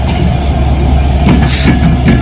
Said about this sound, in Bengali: এই লোকোমোটিভটা কিন্তু আমাদের এই ট্রেনটাকে নিয়ে আসলো